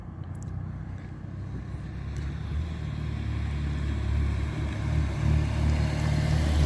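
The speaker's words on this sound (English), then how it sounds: "sometimes another car, two more cars" Cars pass along a road at 1:41 in the morning, a low engine and tyre rumble building steadily louder as the vehicles approach, with no talking over it.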